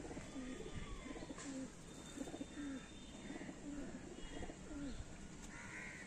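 Kala sobuj (black-green) pigeons coo softly in repeated short, low phrases, fairly faint and spaced across the moment against a quiet background.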